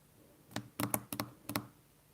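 Computer keyboard typing during a writing and editing session: a few quiet, irregular key taps in small clusters, close and alone.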